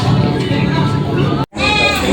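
A goat bleats at the Lucena livestock auction market, its calls rising over steady nearby human chatter and crowd noise, with a short gap before the bleating and talk resume.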